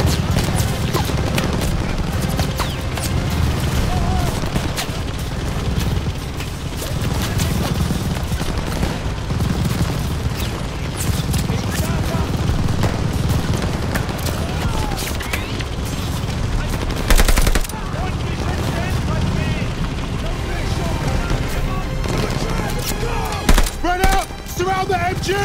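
Call of Duty Vanguard battle: sustained machine-gun bursts and scattered rifle shots rattle continuously at close range, with occasional heavier blasts, while soldiers shout orders over the gunfire.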